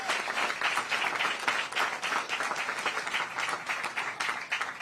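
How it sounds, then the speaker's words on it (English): Audience at a Florida governor's news conference in Clearwater breaks into sustained, even applause, moderately loud and continuous with no speech over it. "I think he deserves a great round of applause."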